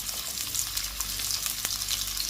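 Sliced onion, green chili, garlic and ginger sauté in a hot pan, a dense continuous sizzle with crackling spatter, close and steady.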